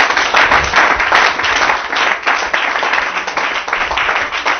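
A church congregation applauds, dense continuous clapping from many hands filling the room loudly and steadily for several seconds, with faint voices mixed in.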